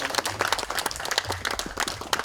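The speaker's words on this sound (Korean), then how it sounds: "그래서 그 한 박수 한번 좀 보내줍시다." Community members at an on-site meeting about the Uljin great pine tree give a short round of close, dense hand clapping, a crowd of individual claps running continuously throughout.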